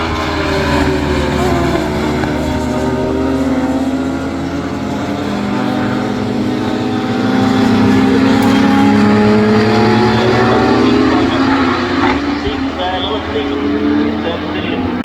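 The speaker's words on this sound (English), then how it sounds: "trying to get alongside Stevens as well now, as they make their way down towards Tower Corner." Radical race cars at the Castle Combe circuit head toward Tower Corner, a loud sustained engine drone and whine rising and falling as they pass, with a commentator talking over it throughout.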